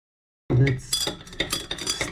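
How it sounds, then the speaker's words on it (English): Zinc granules are stirred in silver chloride, giving a quick run of light clinks and scrapes that start abruptly and repeat unevenly for a couple of seconds, close and fairly clear. "stir it a little, because silver is reacting on top of the zinc granules"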